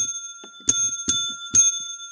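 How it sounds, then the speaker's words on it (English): Desk bell from the Bibliocraft mod in Minecraft, struck three times at an even pace, each a bright metallic ding with a short ringing tail amid faint clicks. "We also have a desk bell"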